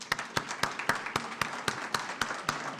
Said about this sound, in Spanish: recibamos al doctor Rufino Cano González con un fuerte aplauso